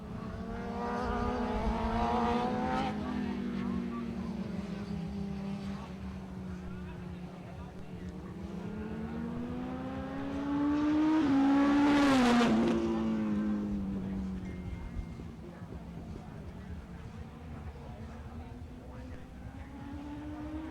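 Honda BigWing 1000cc motorcycles race on a circuit, their engines whining as the pitch climbs and falls through gear changes. One passes loudly close by with a sharp pitch drop, while a commentator talks over the track noise.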